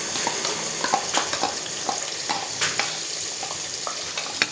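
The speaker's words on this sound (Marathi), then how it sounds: "आता मसाल्याला अगदी छान तेल सुटेपर्यंत आपल्याला परतून घ्यायचं आहे." Ground masala paste with curry leaves being stirred and sautéed in hot oil in a pan for Kolhapuri misal, a steady close sizzle broken by frequent scraping and stirring clicks, with no talk.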